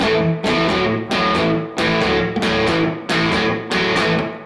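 Distorted electric guitar plays a classic blues shuffle riff with repeating chord stabs in a loping swung rhythm, loud and close, no talking.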